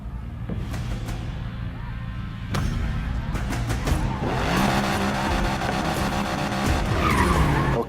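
A powerful car in Need for Speed Payback, on a Las Vegas-style course, squeals its tires in long skids over a steady engine roar, loud and close, with no talk.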